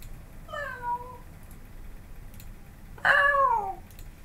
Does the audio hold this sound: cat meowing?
yes